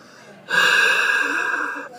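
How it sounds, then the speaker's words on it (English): A steady breathy hiss of breath blown into a pint glass, with a hollow, ringing resonance, lasting about a second and a half before cutting off, close to the microphone. "You've got the sound of a white noise from the breathing out, but you've also got the resonant frequencies of the glass"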